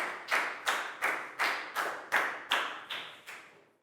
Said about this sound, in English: Applause for Pat.